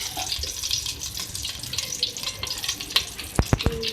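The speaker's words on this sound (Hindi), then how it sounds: "हमारी जो घी है ये मेल्ट हो जाएगी" Ghee melting in a pan for aloo biryani gives a soft, steady sizzle up close, with a few sharp clinks toward the end and no talking.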